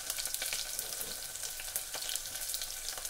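Chopped onion sizzles and crackles steadily in hot oil with a pinch of asafoetida, a loud, continuous fry with no talk, as the base for a mixed vegetable biryani.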